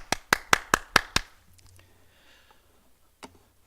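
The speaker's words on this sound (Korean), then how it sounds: "하나님께 감사의 박수 드리겠습니다." A church congregation at a New Year's Eve service gives a short burst of about six sharp, evenly spaced claps. The claps die into a quiet room, and one faint tap follows.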